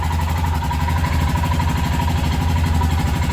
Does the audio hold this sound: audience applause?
no